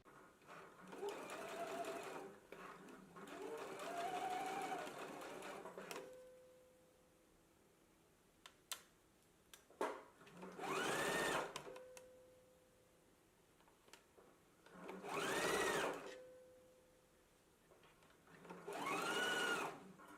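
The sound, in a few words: sewing machine basting a sleeve in place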